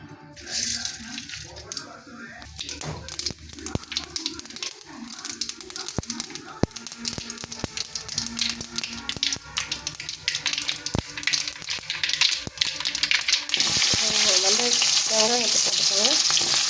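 Mustard seeds frying in hot oil in a kadai, with a growing crackle and sizzle that swells and turns into steady loud spattering near the end, while someone talks over it at the start.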